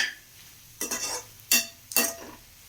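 A pan of brinjal being stirred and sautéed for chutney: three distinct scraping, sizzling stirs, each a short burst with quiet gaps between, close and clear with no talking.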